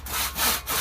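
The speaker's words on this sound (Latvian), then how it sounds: "Skaties, kā opīts zāģē." Hand saw cutting through wood in three steady, close strokes, each a loud rasping push-pull with brief dips between, heard alone without talk.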